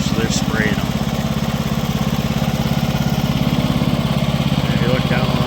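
A lawn mower engine drones steadily nearby on a farm with a fast, even putter, and faint chirps sound in the background.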